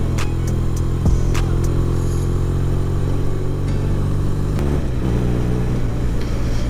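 A BMW flat-twin police motorcycle engine idles steadily with a low, even drone, a couple of sharp clicks and a brief shift in tone partway through.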